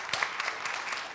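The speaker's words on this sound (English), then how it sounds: "And let's give Larissa a big round of applause." Brief burst of audience applause at a Mars outreach talk, a quick patter of claps heard at moderate distance for just over a second.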